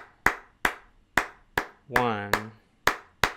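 Sharp wooden clicks struck in a steady pattern, about eight crisp hits, with a brief spoken count overlapping partway through.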